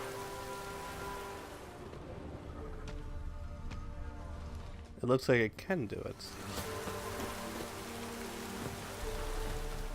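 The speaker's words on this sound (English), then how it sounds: "Looks like rain." Rain falls steadily in The Witcher 3 video game as a soft, even hiss of drops behind the scene. Someone speaks briefly, and a louder burst of sound interrupts it around the middle.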